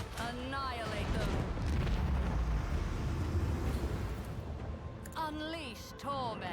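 Macro cannons firing from a starship in Warhammer 40,000: Rogue Trader, a long rumbling barrage of booms rolling together for several seconds, with voices speaking before and after the salvo.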